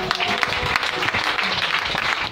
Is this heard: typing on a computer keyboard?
no